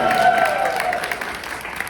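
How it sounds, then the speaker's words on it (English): Comedy club audience applauding at a stand-up show, a dense burst of clapping that begins loud and slowly thins, with a few voices mixed in. "Okay, if you're any age, clap."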